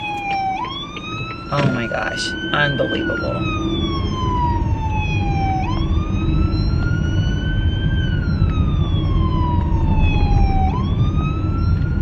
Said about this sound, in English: it's a fire truck and they're leaving the scene